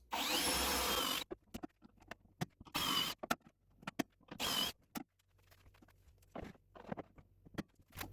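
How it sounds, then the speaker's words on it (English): A Kreg Mini Jig drills pocket holes in a wooden cabinet carcass, with short, loud bursts of a power drill spinning up, separated by quiet gaps, faint knocks and handling noises. "Here I'm going to drill the holes to attach the face frame to the cabinet carcass."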